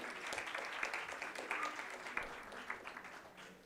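Faint, steady applause from a conference audience at an MSME event greets a speaker, many hands clapping at a distance with a few sharper individual claps standing out.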